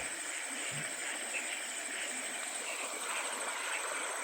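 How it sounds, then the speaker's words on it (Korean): Steady flowing water mixed with a dense shrill chorus of night insects and frogs outside rural guest rooms in Laos, a continuous wash of sound with no talk. "여기에 이제 물 흐르는 소리 그리고 풀벌레 소리랑 개구리 소리랑"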